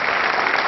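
An audience at a Hindi poetry recital gives a short, steady burst of applause, a dense patter of clapping hands filling the moment without any speech.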